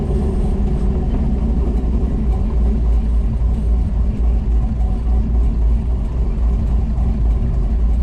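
Car fitted with a 4500 stall torque converter, driven on a city street, a steady low engine rumble and drone held at moderate revs, continuous and close throughout with no talk.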